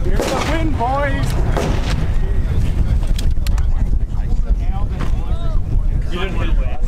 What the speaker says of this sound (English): Here's the wind, boys.